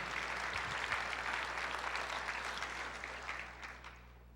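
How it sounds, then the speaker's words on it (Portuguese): Applause from a church congregation during a sermon, a dense burst of clapping that fades toward the end. "Uma salva de palmas para os dois."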